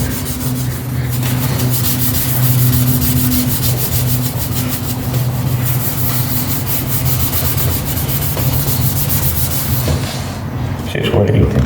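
A cloth rubs and wipes across a car headlight lens in steady, close back-and-forth scrubbing strokes that continue throughout, with brief talk mixed in.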